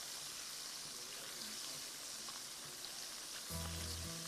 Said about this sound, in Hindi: अच्छा फ्राई कीजिए।